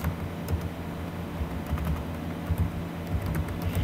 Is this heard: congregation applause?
no